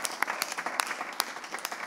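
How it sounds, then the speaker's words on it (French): Studio audience on a youth day television broadcast applauding, a close, crisp patter of many hands with sharp individual claps standing out in a quick, uneven rhythm. "vous avez le droit de l'applaudir et de vous applaudir, toutes et tous sur ce plateau"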